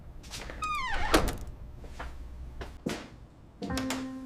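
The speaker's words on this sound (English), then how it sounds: "I locked the door behind me" A door closes and is locked in an apartment: a couple of clunks and a latch click, followed by a short metallic rattle, heard fairly close against quiet room tone.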